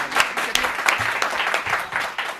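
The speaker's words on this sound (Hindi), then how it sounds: "जोरदार तालियां बजाकर आलोक जी।" An audience bursts into lively applause at a Hindi comedy poetry show, welcoming poet Alok Pandit with a short, loud run of many hands clapping close by.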